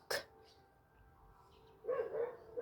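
A dog gives a sharp bark, then after a short pause a longer, rougher bark or growl follows, fairly close in a quiet space.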